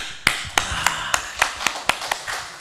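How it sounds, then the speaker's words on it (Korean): A church congregation at a Friday night worship service claps in a brief burst of sharp, fairly regular hand claps, close and distinct, about nine beats in under three seconds. "그렇지. 박수."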